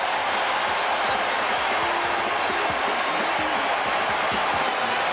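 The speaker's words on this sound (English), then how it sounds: "Listen to this crowd and the excitement here." Excited stadium crowd at a 1981 Dallas Cowboys at Philadelphia Eagles football game right after an interception, a dense, steady roar of many voices filling the space without break.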